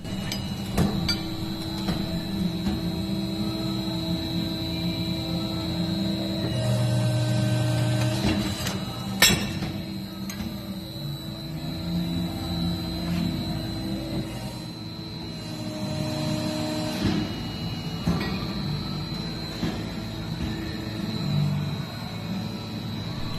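A CNC press brake runs in production bending parts, a steady mechanical hum with periodic whirs and a sharp clunk partway through, moderately loud and continuous, with no voices.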